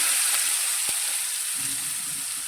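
Two finely chopped onions hit hot oil seasoned with cumin and asafoetida, giving a steady bright hiss of frying with a soft thud as they drop in and a faint scrape of stirring afterward, with no talk.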